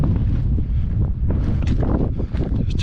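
Cold mountain wind in the Swiss Alps buffets the microphone in heavy, rumbling gusts, loud and close throughout the short stretch with no voices.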